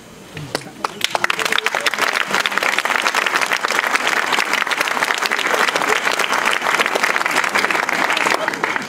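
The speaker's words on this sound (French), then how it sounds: "Je vous remercie pour vos applaudissements" A crowd applauds after the mayor's New Year speech, loud, dense clapping that builds quickly and holds steady, with some voices in the mix.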